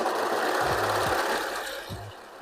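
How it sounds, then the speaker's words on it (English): A Singer 14HD854 serger overlock machine runs in fast bursts, a rapid mechanical clatter close by, with brief stop-start pulses and no talking. "You see how much the serger is moving?"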